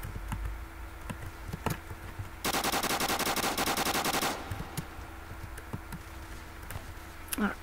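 Rapid automatic gunfire from the Roblox game COR 5 bursts out in one sustained volley of about two seconds, framed by scattered single clicks and shots.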